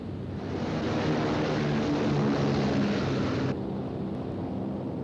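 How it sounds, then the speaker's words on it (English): Royal Air Force bombers loaded with high explosive and incendiary bombs take off for Hamburg in July 1943, their propeller engines a broad, steady droning roar that stays loud throughout. "Royal Air Force planes loaded with high explosive and incendiary bombs took off for Hamburg"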